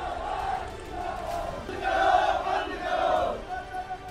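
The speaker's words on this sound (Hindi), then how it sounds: "पुलिस प्रशासन के खिलाफ नारेबाजी की" A protest crowd on a procession shouts slogans against the police, the massed voices loud and rising in surges that peak twice near the end.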